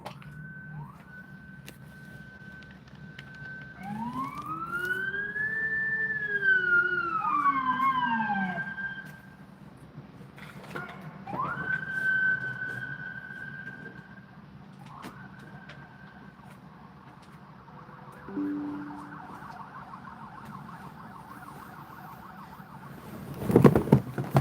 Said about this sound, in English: all the sirens start